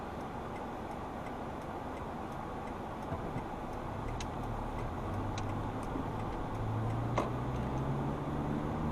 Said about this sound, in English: traffic comes from both directions